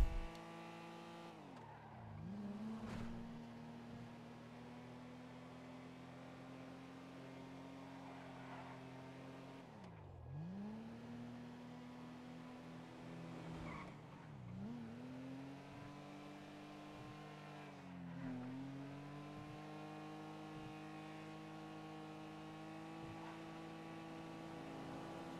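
Car engine revving and shifting in GTA V Online, with tires skidding and squealing as the car slides and spins after landing from jumps; a steady, loud drone with repeated pitch dips over about 25 seconds.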